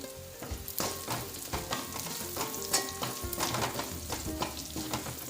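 Chili powder with dried red chilies frying in hot oil in a pan for jackfruit curry, a steady close sizzle broken by frequent small spatters and the occasional tap of a spoon, with no voices.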